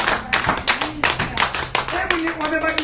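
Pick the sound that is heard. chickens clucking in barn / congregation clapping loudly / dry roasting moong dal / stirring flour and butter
congregation clapping loudly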